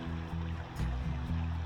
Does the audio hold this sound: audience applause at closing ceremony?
no